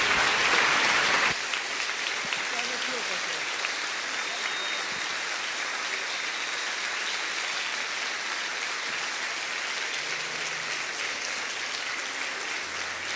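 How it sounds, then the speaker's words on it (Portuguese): A church congregation applauds a visiting reverend in a long, steady wash of clapping. It opens with a brighter, louder burst, then continues evenly without pause. "aplaudindo o Senhor Jesus."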